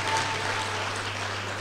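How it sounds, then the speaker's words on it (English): Audience at a staff appreciation awards ceremony for a Saint Lucia store chain applauds for a staff member, a steady wash of clapping throughout, with a low hum underneath. "give Maria a round of applause for me"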